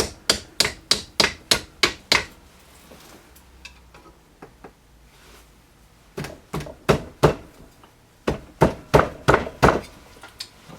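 A cotter pin is tapped into a restored W.C. Toles No. 65 iron work vise with sharp, close metallic hammer strikes. A quick run of about nine taps comes first, then a few scattered lighter ones, then another rapid burst.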